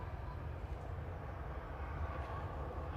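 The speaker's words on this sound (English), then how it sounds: "Aer Lingus on approach, coming in from Dublin" An Aer Lingus Airbus A320 airliner on approach to Manchester Airport, arriving from Dublin, makes a steady, broad engine roar with a low rumble that holds at an even level the whole time.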